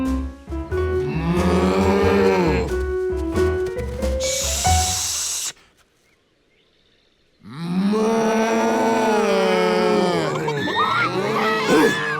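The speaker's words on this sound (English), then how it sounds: "How could he quiet the cows?" Drawn-out cartoon cow moos, loud and close, broken by a short hissing shush and a brief silence before more lowing.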